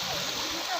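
Water pours at the Loddupalem waterfall, a steady rushing splash that fills the brief moment. Someone speaks over the falling water.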